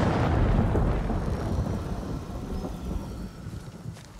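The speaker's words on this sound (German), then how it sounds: "Mal abgesehen vom Donner, der schlägt." Thunder rolls through a stormy scene in the video game Ghost of Tsushima, a loud, continuous low rumble that slowly fades over a few seconds with no talking.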